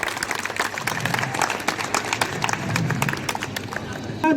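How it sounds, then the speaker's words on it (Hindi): Audience at a community gathering breaks into sustained clapping, a dense patter of many hands filling the room, with some voices in the crowd. "उनके लिए जोरदार सभी के हाथ बिल्कुल ऊपर उठ के तालियां होना चाहिए।"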